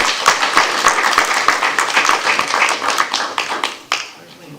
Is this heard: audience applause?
yes